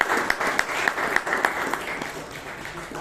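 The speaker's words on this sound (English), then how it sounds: "big round of applause to our tag team." An audience at a Toastmasters club meeting applauds, steady clapping from a modest crowd for about three seconds with a few sharper individual claps standing out.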